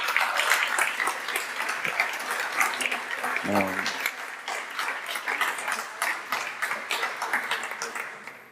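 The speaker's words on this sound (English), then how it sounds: "just one last round of applause for Simona" Audience at an academic talk applauds steadily, the clapping thinning toward the end, with a brief spoken word and a short tonal voice partway through.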